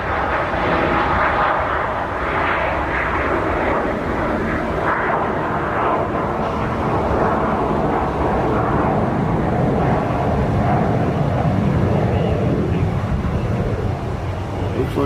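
Jet aircraft taxiing at Nashville International Airport, a steady loud engine roar with broadband rush that holds constant throughout, no talking over it.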